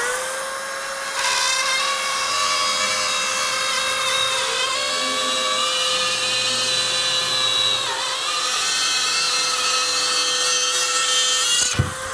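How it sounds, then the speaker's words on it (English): Drywall cutout tool cutting through drywall, a loud high-pitched whining spin with shifting pitch as it bites and grinds through the board, running continuously for about ten seconds up close before stopping. "Now that drywall cutout tool is amazing. It's a noisy, it's dusty, but man, is it efficient."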